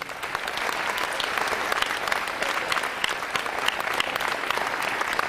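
A room full of people claps for Lieutenant Colonel Stockton. The sustained, even applause holds at a moderate level throughout, with no breaks.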